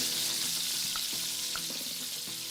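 Lard and pancetta with celery, carrots and onions sizzle in a pan, a bright continuous hiss with small pops and faint utensil taps beneath.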